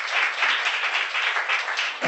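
An audience at an indoor business gathering breaks into dense, continuous applause, many hands clapping together at a steady, fairly loud level for a couple of seconds before it cuts off.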